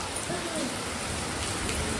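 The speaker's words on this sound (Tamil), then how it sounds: "மழை பெஞ்சிட்டு இருக்கு" Heavy rain falls in a steady, even hiss of drops with no breaks, fairly soft and close, with no other clear sounds over it.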